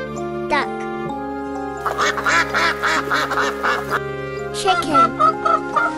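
A rapid series of duck quacks sounds over light background music, followed by a few more quacks near the end.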